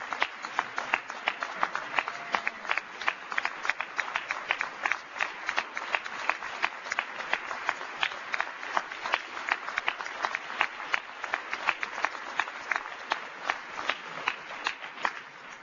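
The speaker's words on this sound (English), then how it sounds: "Would you all give Shirley Dobson another big round of applause?" A large crowd at a faith and freedom conference keynote claps steadily for an honoured guest, a continuous patter of many hands at moderate distance, without speech.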